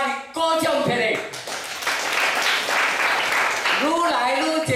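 A seated audience of a few hundred at a lecture claps together, a dense burst of applause that builds and holds for a few seconds between stretches of a man's amplified speech.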